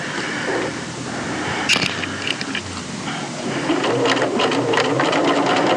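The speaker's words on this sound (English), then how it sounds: "so I'm just going to sew around that neck to show you that." A sewing machine stitches around the neckline of a bodice, running in a steady mechanical chatter throughout with a few small clicks and shifts in speed, close and loud with no talking.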